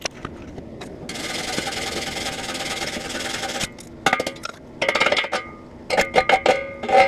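Slag being chipped and scraped off a fresh downhill weld on metal, a steady rasping scrape followed by uneven bursts of sharp metallic knocks and scratches, close and fairly quiet.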